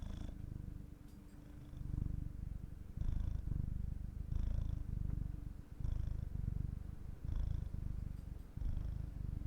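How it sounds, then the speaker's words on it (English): Pet cat purring close to the microphone in a low, rumbling, continuous rhythm, each breath cycle audible as steady pulses with no talking. "Don't know if you can hear purring."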